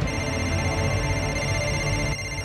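A telephone rings steadily and loudly for over two seconds, a dense electronic ring with a constant tone, cutting off slightly near the end.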